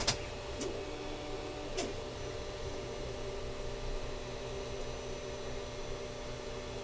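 Creality CR30 belt 3D printer running a build, a steady mechanical hum with faint whirring tones throughout, a couple of brief clicks near the start, no talking.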